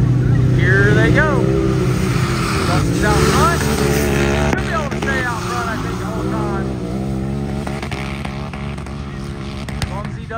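Side-by-side UTV engines, one a turbo machine, roar off the start of a head-to-head race, loud engine drone with rising revs under excited commentary.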